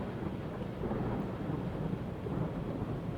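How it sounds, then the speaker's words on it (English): A thunderstorm in the submarine video game Uboat gives a steady, broad roar of rain and rumbling thunder, continuous and moderately loud, with no voices. "it's supposed to be like a thunderstorm, which is not great weather."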